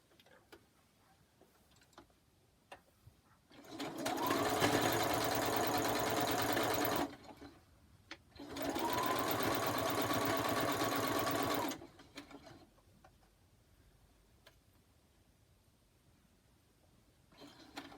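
A sewing machine stitches quilt block pieces for a star block in two steady runs of a few seconds each, separated by a short pause, with quiet handling before and after.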